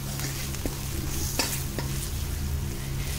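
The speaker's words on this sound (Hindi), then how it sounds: "पलट पलट के अरबी को अच्छे से" Taro (arbi) pieces being turned and fried in a pan with rock salt give a steady close sizzle, broken by a few sharp scrapes and clicks from the turning.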